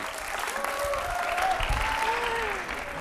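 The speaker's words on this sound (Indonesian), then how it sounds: "Sekali lagi tepuk tangan untuk I Am Presiden, luar biasa." A studio audience at an Indonesian television talent contest bursts into sustained, loud applause, dense clapping filling the short stretch while a presenter's voice carries over it.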